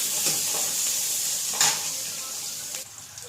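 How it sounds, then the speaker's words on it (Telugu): Onions and garlic frying with cumin in ghee for jeera rice, a steady close sizzle and hiss with a few spatula stirs and scrapes, easing slightly near the end, no talking. "ఇదిగోండి ఉల్లిపాయలు, ఇదిగోండి వెల్లుల్లి బాగా ఫ్రై అవ్వాలి."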